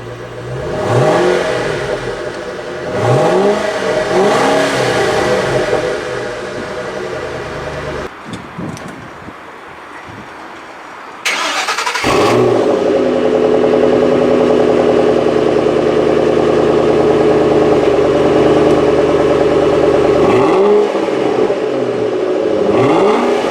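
A 2012 Shelby GT500 SVT Cobra Mustang engine fires up and revs repeatedly, rising and falling in pitch, drops away briefly, then settles into a loud, steady idle with more revs.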